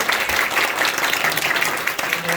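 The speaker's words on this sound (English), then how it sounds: "Let's give everybody a round of applause." A conference audience applauds at the close of a session, steady dense clapping filling the room at moderate loudness throughout.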